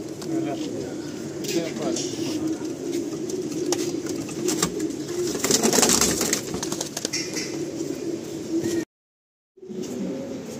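Madrasi and Andhra pigeons cooing in a loft, a steady low repeated cooing under general clatter and voices, with a brief silent cut near the end.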